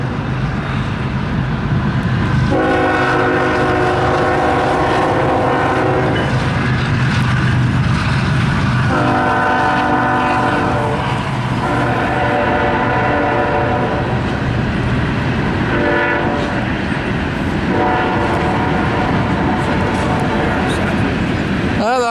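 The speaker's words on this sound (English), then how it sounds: "watch for that 6X train, because he's coming" A 6X freight train rumbles past loudly and close, sounding several long horn blasts in a repeating pattern over the steady roll of its cars, with people talking in the background.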